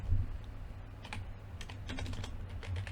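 Typing on a computer keyboard while composing a reply in a mail client, a steady run of light key clicks in bursts over a low constant hum, fairly close, with no talking.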